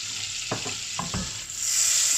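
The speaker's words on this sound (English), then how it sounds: "I'm going to just add a little bit of saffron into the oil." Saffron goes into hot oil for Persian rice, with a bright continuous sizzle and a few quick stirring scrapes, and the frying swells louder toward the end.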